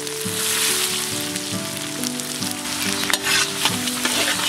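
Fifty grams of cumin seeds fry in hot oil in a pan, a loud, dense sizzle and crackle with scattered pops and stirring scrapes, close and unbroken, no talking.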